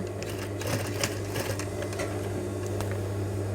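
Home sewing machine backstitching over a jeans zipper during a repair, a steady close mechanical whir with a constant hum and light rapid ticking, running continuously without talk.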